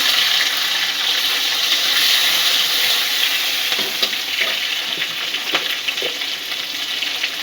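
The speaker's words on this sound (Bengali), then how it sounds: "লাল লাল হয়ে এসছে, চিংড়ি মাছ দিচ্ছি।" Prawns dropped into hot oil with whole garlic cloves, giving a loud, steady sizzle and crackle that keeps going with bright popping spatters and no voices.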